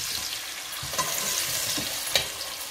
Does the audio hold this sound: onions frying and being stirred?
yes